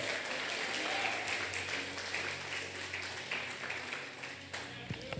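A church congregation applauds during a Sunday service, a fairly faint but steady wash of many hands clapping that continues for several seconds before tapering, with a few louder individual claps near the end.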